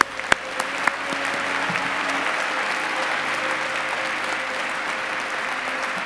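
Audience applauding the graduating class at a 2017 postgraduate ceremony for the natural sciences faculty, a dense sustained round of clapping filling a large hall after a few sharp claps at the start.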